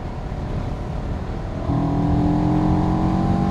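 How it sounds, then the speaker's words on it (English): A CFMoto CL-X Sport motorcycle engine burbles steadily while being ridden along a bendy road, a low continuous drone that steps up louder and fuller partway through as the throttle opens. "Lovely burble from the engine as well as you make progress."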